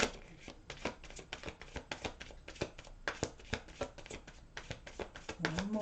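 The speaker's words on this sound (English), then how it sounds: "One more shuffle for our Scorpios." Tarot cards are shuffled in quick, crisp riffles and taps, a dense run of papery slaps close by with no one talking.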